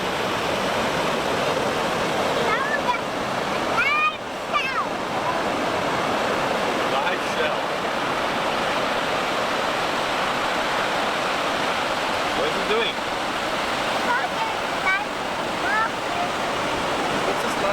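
Steady, loud surf of ocean waves on a Costa Rica beach fills the scene as a continuous rushing wash, with faint voices and a few brief higher sounds now and then.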